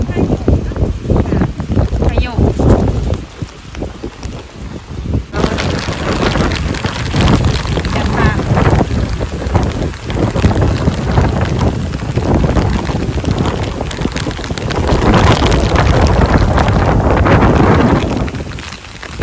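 Strong wind buffets the microphone in a rice field during a cold, heavy downpour, a dense roaring rush with rain hissing throughout, loudest toward the end, while people speak intermittently.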